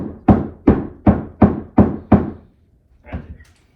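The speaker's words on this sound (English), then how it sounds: "We're going to hit along the floor until we hear a solid thunk" Six firm, evenly spaced knocks from a hammer on a carpeted floor while searching for a joist, each a dull close thud, followed by a softer, fainter sound after a pause.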